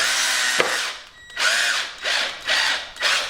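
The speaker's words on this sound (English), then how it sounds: "I put my finger behind it as I'm screwing it in." A cordless power drill driving a Lost-Tite screw through a liner into a wooden frame, close and loud, with a whirring run followed by several short bursts as the screw is tightened.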